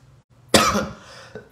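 A single sharp cough from one person, close and loud, followed by a short trailing breath and the start of another cough.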